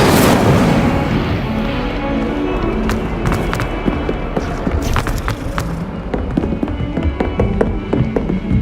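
A fire spell cast in the Hogwarts Legacy video game: a loud, dense burst of crackling, popping flame and bright snaps, sustained throughout with sharp crackles scattered over a roaring rush.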